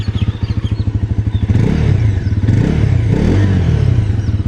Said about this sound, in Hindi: एक बार फिर से मैं आपको इसका एग्जॉस्ट साउंड सुना के